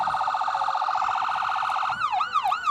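A fire engine siren wails loudly and continuously during a Christmas parade, first in a fast warbling pattern, then switching to a slower rising-and-falling yelp.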